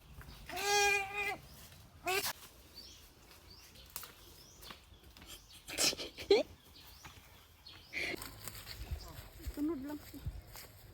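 A goat bleats loudly and close in one drawn-out cry, followed by a few shorter, fainter bleats amid scattered outdoor noises and people talking in the background.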